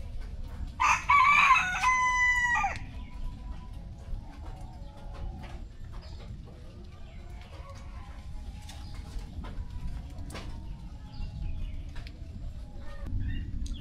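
Chickens at a farm: a rooster crows loudly and close near the start, followed by scattered soft clucks and faint bird calls over a low rumble of background noise.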